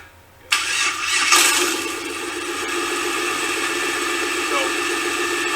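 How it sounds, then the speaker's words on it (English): An engine run by a custom-built ECU cranks and catches after a brief quiet moment, surging loudly before settling into a steady, rattly idle that continues to the end. "Here we're going to fire up the engine for you guys to give you a little taste of what we've been developing here."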